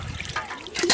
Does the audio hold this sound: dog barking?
no